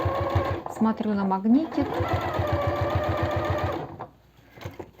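A domestic sewing machine stitches a home-clothing garment seam on a longer stitch setting, its rapid steady mechanical chatter running for several seconds under a woman's speech before stopping near the end.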